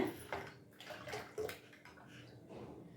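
Water poured over ragi (finger millet) being strained for halwa, a close running, splashing flow with a few sloshes, steady and moderately quiet throughout.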